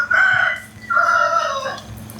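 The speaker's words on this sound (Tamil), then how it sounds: "கோழி கூப்பிடுது." A rooster crowing twice in quick succession, two loud, drawn-out calls nearby with a short gap between them and faint background noise underneath.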